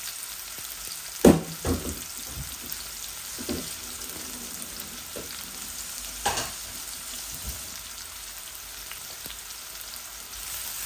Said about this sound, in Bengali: এই ভাজিটা আমি পানের মধ্যে করতেছি।